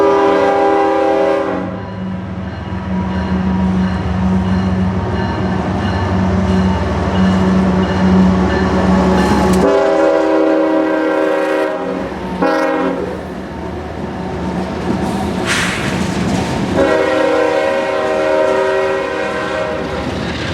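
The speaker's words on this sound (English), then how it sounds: "And guess what train also passes through this stretch of track? The Tropicana Juice Train." CSX Tropicana juice train rolling past near the track in Tampa, Florida, its horn sounding in long loud blasts over steady wheel rumble and clatter of the passing cars.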